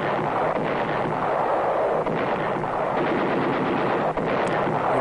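Battlefield artillery fire between French and opposing guns in war documentary footage, a dense continuous roar of distant gunfire with scattered louder booms and bursts throughout.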